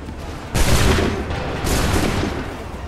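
Musket volley fired on command in the Assassin's Creed 3 video game, two loud, heavy bursts of massed gunfire with a lingering rumble, close and dominant.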